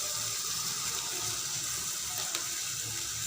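Water pours steadily into a pan of kabuli chana curry, a soft continuous splashing gush at low level with no talk.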